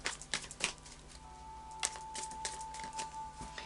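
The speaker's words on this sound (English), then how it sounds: "So I'll just do a final shuffle of the Tarot of Dreams." A deck of tarot cards being shuffled by hand, faint soft riffles and taps in a quiet room, a few irregular bursts with a low steady hum underneath.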